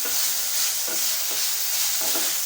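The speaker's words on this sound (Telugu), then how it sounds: "చింత చిగురు బాగా మగ్గిన దాకా వేయించుకోవాలి" Tender tamarind leaves frying in a pan with masala for chicken curry, a dense continuous sizzle broken by several soft stirring scrapes, close and alone.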